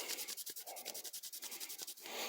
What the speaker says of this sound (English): Now you want to rub until your rag comes clean.